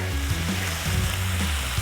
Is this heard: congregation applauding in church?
no